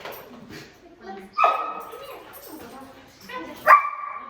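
A puppy whimpers and lets out two sharp, high yelps a couple of seconds apart, close by, with softer whines and faint voices in between.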